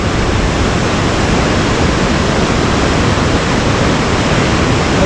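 Constant loud rushing water, a dense broadband roar with no pauses, from Ketchikan Creek in Ketchikan, Alaska, a fast mountain creek flowing close by.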